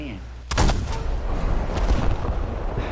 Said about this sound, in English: Boom! One shot, and already we took out his vertical cannon drive. And that's just one shell.